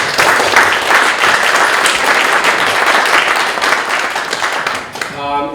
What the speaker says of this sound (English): A round of applause for the really terrific work.